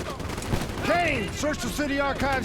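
Gunfire crackles in the background of a Black Ops 3 campaign battle, a steady volley of shots under a voice giving orders.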